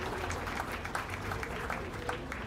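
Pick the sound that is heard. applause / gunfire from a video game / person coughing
applause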